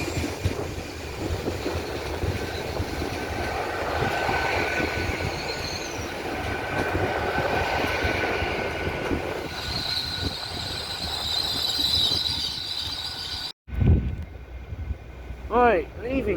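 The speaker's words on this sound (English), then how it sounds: "leaving now is the Mayflower, the 1442 Great Western Railway service to Paddington." A Great Western Railway class 802 train pulls out of Taunton station, its wheels squealing and rumbling along the track, fairly close, with a platform announcement heard partway before a brief cut.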